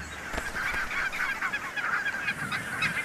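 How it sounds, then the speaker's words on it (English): A barnacle goose honks in a rapid series of short, nasal calls, fairly faint and distant over open outdoor background noise, with no voices. "Barnacle goose is probably, in my opinion, the most beautiful goose in the country."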